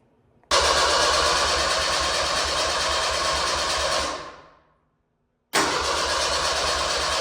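An old vehicle engine cranks hard with the starter for several seconds, then winds down and stops, followed after a short pause by a second cranking attempt, loud and close.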